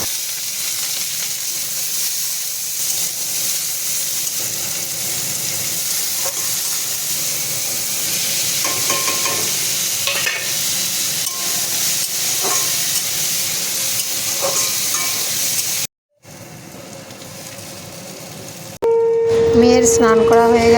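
Chow mein fries in a pan with a steady, close sizzle and hiss, broken by occasional stirring scrapes; near the end a louder clatter and humming tones burst in.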